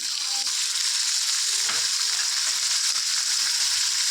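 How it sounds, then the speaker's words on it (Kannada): Onion, green chili and tomato fry in oil in a pan, a constant close hiss of sizzling with faint stirring scrapes now and then beneath it. "ಇದೆಲ್ಲನೂ ಸಾಫ್ಟ್ ಆಗೋವರೆಗೂ ಚೆನ್ನಾಗಿ ಫ್ರೈ ಮಾಡ್ಕೋಬೇಕು"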